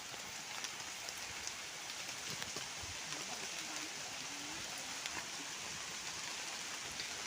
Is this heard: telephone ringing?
no